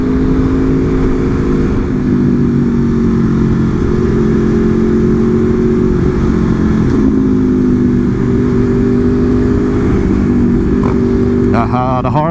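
An Aprilia RSV4 motorcycle with a full exhaust runs close by as it rides, a loud continuous droning engine note that rises and falls slightly throughout.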